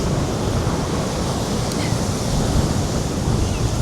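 Strong wind gusts over a pebble beach with surf breaking, a steady, loud roar of wind buffeting and waves washing across the stones with no pause throughout.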